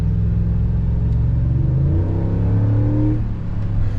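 A 2021 Ford F-150 Black Widow pickup pulls away under steady acceleration, its exhaust giving a deep, continuous rumble that climbs in pitch and stays close and loud throughout.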